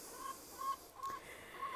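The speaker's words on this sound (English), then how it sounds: "the chickens like digging through that and" Hens on a homestead yard give soft, intermittent clucks, a few short tonal calls at moderate distance over faint outdoor background.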